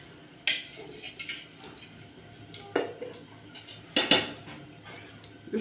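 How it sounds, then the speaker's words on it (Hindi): Wheat flour roasting in desi ghee in a pot, stirred with a metal utensil: soft scraping broken by a few sharp clinks and clatters against the pot, close and fairly quiet. "मैं आटा भूनूंगी"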